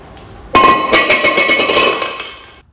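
Brake disc being pulled off the hub of a turbo EF Ford Falcon, a sudden loud metallic clank followed by a ringing, clinking rattle of steel that fades out over a couple of seconds, close up with no talk.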